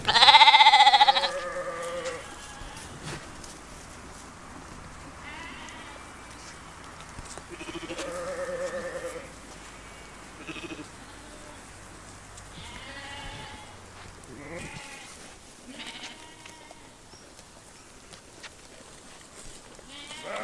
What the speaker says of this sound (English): just found this whole herd of sheep